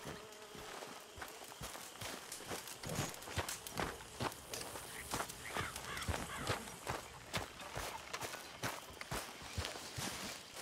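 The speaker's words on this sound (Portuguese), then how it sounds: "Cavalo." A horse's hooves walk at a steady, even rhythm across the ground in Red Dead Redemption 2, with faint buzzing insects in the background, quiet and unaccompanied by talk.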